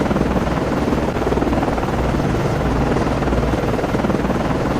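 A helicopter in the naval combat game Cold Waters drones with a steady, loud rotor wash that holds constant throughout, with no talking over it.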